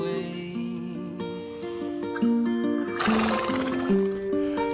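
A domesticated horse whinnies up close outdoors in a series of loud, wavering neighs, with a brief burst of noisy breath or snorting partway through.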